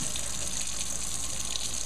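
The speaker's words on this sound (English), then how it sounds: "get a little bit of water in there" Water runs steadily from a tap into a can in a kitchen while hummus is being made, a close, even hiss and splash without pause.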